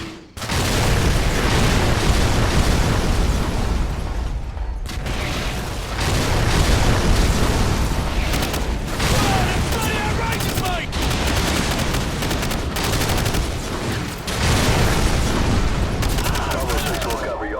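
Heavy artillery barrage in Call of Duty 4, a dense run of booming explosions and rattling gunfire that roars loud and continuous, with brief lulls before fresh blasts, and battlefield voices and radio chatter mixed under it.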